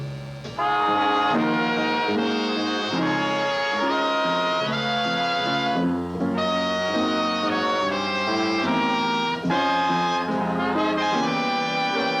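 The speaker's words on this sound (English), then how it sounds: "we use the trumpets, and they sound like this." Trumpets play a loud, bright melodic passage of sustained and moving notes at a concert, a full brass ensemble with short pauses between phrases.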